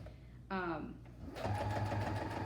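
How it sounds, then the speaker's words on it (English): A sewing machine whirs into motion after a brief tonal sound, its motor humming steadily with a rapid repeating needle rhythm, close by. "the sound of a sewing machine reminds me of my mom"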